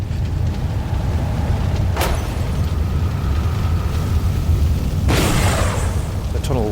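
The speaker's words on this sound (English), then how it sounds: "Tires from the vehicles explode." Vehicle tires explode in a tunnel fire, two sharp, powerful bursts a few seconds apart that cut through a constant low, roaring rumble.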